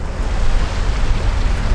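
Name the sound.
sea waves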